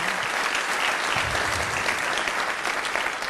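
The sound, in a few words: audience applause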